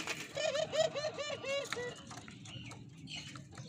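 Turtledoves in a flock cage give close, clear cooing in a quick run of rhythmic calls, then softer coos and faint background sounds follow.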